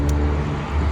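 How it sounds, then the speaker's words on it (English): Cars pass on a nearby road in a steady, low rumbling wash of traffic noise, close and continuous with no speech. "A lot of cars."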